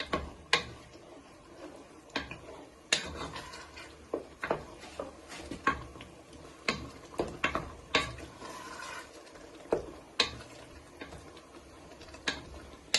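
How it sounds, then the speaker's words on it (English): Tomato puree is stirred into savory mince in a pan, giving irregular clicks and knocks of a spoon against the pan over a low simmer, close and moderately quiet. "You want to add in a squirt of tomato puree. Give all that a good stir in."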